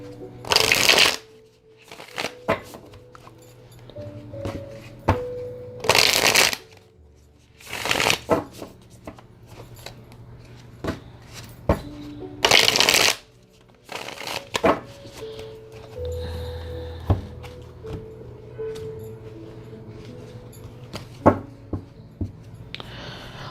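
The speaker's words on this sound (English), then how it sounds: "let me give it a nice shuffle" Tarot cards are riffled and shuffled in several loud, quick bursts, separated by quieter taps and handling sounds close up.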